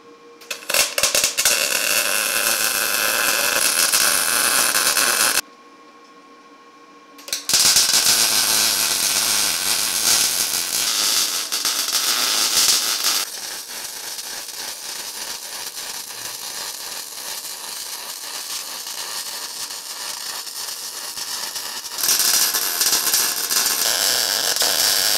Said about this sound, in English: Now I need to weld these on.